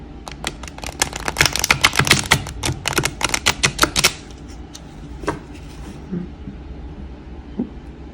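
A rapid flurry of crisp, papery clicks and riffles from a shuffled tarot deck, loud and dense for about four seconds, then a few scattered taps over quiet room tone.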